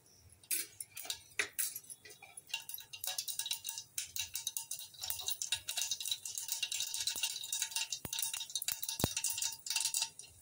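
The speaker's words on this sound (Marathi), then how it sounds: "राई चांगली तडतडली।" A spoonful of mustard seeds splutters in two large spoons of hot oil for a spicy Konkani-style misal tempering, giving faint, irregular sharp pops and crackles with light metallic clinks. They run steadily for about ten seconds, with no voices.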